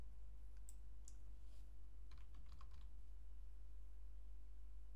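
Computer keyboard typing with mouse clicks while searching a server control panel, a few faint clicks followed by a short run of quick keystrokes over a low steady hum.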